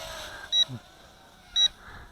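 Two short electronic beeps about a second apart, thin and high-pitched, over faint background noise: a low-battery warning from a Juncheng 3015-2 micro drone.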